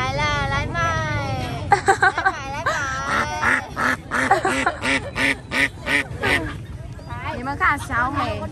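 Ducks for sale at a busy rural weekend market in Vietnam quack loudly and repeatedly at close range, in rapid overlapping calls, with people talking throughout.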